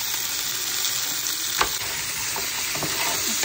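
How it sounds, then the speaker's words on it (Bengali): Garlic, green chilies, onion and tomato fry in a pan with a dense, steady sizzle and occasional stirring scrapes, loud and close throughout with no talking. "এখানে একটা ফ্রাই প্যানে হচ্ছে রসুন, কাঁচামরিচ, পেঁয়াজ আর একটু টমেটো, এগুলো হালকা করে ভেজে নিচ্ছি"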